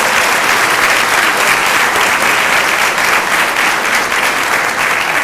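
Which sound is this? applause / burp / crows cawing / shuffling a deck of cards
applause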